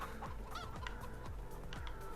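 Chickens on a farm in the video game Farming Simulator 22 make a run of honking, clucking fowl calls, about four distinct calls repeating steadily at close range over a constant background hum.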